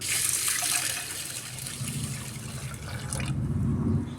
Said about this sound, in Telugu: పాట్లోకి వేసుకొని వాటర్ పోసి వాటర్తో మంచిగా క్లీన్ చేసుకుందాం